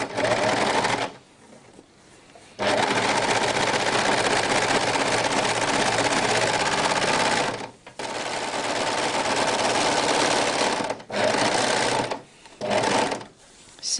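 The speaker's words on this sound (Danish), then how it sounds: "Og så syr jeg lige begge sider her." An overlocker set for a narrow three-thread overlock seam runs in loud, steady bursts as both sides of a handmade shopping net are sewn, stopping briefly between passes and starting again several times.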